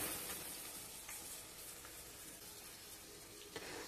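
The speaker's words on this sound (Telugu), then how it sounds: "వంకాయలన్నీ వేసేసుకోవాలండి" Eggplants hit hot oil in a pan while cooking a stuffed eggplant curry, giving a steady, fairly loud broadband sizzle throughout with a small clatter near the end and no talking.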